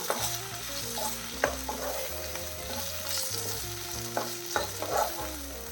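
Ridge gourd and egg sizzle in a frying pan as a spoon stirs them, with a constant crackling hiss and intermittent scraping knocks, close and without speech.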